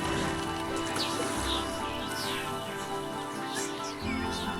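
Steady rain in the video game Planet Zoo, a constant hiss of drops with faint chirping ambience and no talking.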